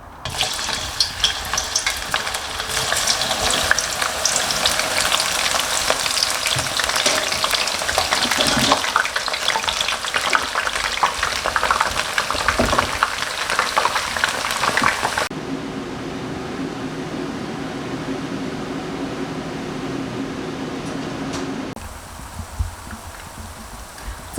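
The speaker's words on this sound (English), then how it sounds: "So the first thing you will do is you'll fry your ladyfingers." Okra frying in warm oil in a pan, a dense, continuous, loud sizzle that drops to a quieter, steadier hiss partway through, then fades lower near the end, with no talk.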